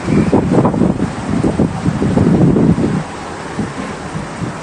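Gusty wind from a sudden rain shower buffets the microphone with a rushing, rumbling roar, loud for three seconds then easing to a softer steady wash, no voices.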